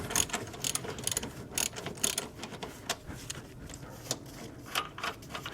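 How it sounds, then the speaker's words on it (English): A hand ratchet loosens bolts on an engine mount of a Toyota Camry with a 2.2L 5S-FE engine, rapid clicking pawl strokes in repeated bursts, close and clear against a faint shop background. "With that out of the way, we can take off the bolts."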